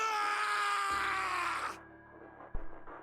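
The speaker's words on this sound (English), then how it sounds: "His scream echoed through the incineration chamber, full of rage and despair." A male character named Snake lets out a loud, sustained scream of rage and despair inside an incineration chamber in the Zero Escape game, trailing off after about two seconds before a sharp thud and a brief rumble.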